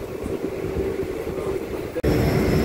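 A train stands at Malkajgiri station, MJF, on a one-minute stop, giving off a steady low rumble and hum with a sharp clunk near the end, after which the noise carries on slightly louder.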